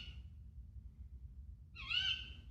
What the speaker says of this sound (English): I'm not sure if that's a tawny owl. Definitely an owl.